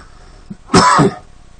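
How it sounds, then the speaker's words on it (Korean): One harsh, close throat-clearing cough, preceded by a soft small grunt, loud and alone in an otherwise quiet indoor setting. "큐티를 할 때가 되면 기침이 더 나와가지고요."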